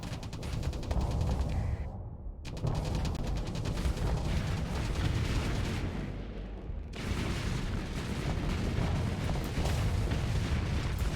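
Torpedoes strike ships amid a space battle in Starsector, a dense, continuous roar of booming impacts and explosions with brief lulls, loud and close throughout.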